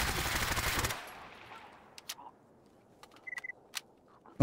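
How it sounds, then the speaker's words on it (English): Gunfire in the Stalker GAMMA video game opens as a dense burst of automatic fire lasting about a second, followed by scattered single distant shots and sharp cracks against a quiet background. "Where are they shooting from?"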